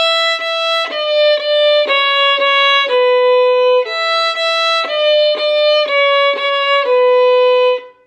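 Solo violin plays a simple tune of Twinkle Twinkle Little Star at a quicker pace, clear bowed notes in a steady stepwise rhythm, close and alone with no talking.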